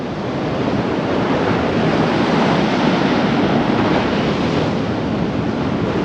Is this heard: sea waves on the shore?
yes